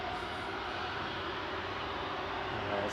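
Ryanair and Air France airliners pass over Manchester Airport, a steady, broad jet roar that holds evenly loud and fairly close for the whole stretch without fading.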